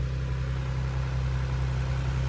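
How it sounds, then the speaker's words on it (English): A Nissan 300ZX with the twin-turbo VG30TT engine idles in a steady, even, low hum. The engine note stays constant with no revving and no voices. "If your alternator is working, the engine is supposed to be running."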